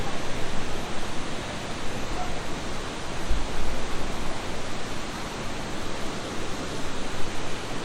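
Sprite Falls, a waterfall at Mahihay in Majayjay, Laguna, roars as a steady, dense broadband rush of falling water, close and continuous throughout with no pauses.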